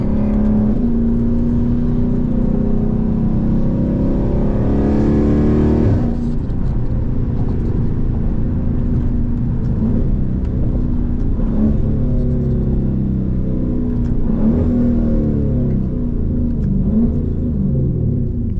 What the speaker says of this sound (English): Them downshifts sound amazing.